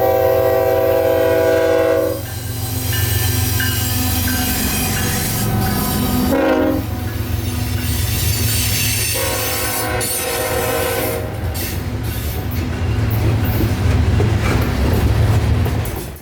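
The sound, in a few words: freight train passing with squealing wheels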